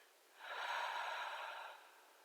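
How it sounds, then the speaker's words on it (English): A slow, deep breath drawn in and let out through the nose, a soft close airy rush swelling and fading over about two seconds, with no talking. "Inhaling. Now exhaling."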